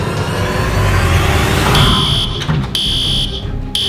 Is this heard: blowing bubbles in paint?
no